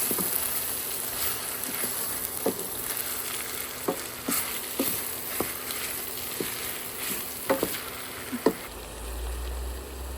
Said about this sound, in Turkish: üzerine bir kaşık biberle domates salçası karışık getirdik. Güzel kavuruyorum şimdi soğanla.